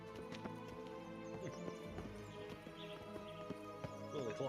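Roach the horse trotting in The Witcher, quick rhythmic hoof clip-clops close by, a soft snort or whinny now and then, with music and ambience underneath.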